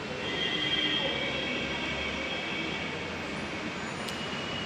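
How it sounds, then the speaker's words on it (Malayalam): A metro train runs past, a steady broad rumble with faint wheel squeal and rail noise holding level throughout, fairly close and with no talk over it. "ജസ്റ്റ് ഇങ്ങനെ മെട്രോ പോകണുണ്ട്"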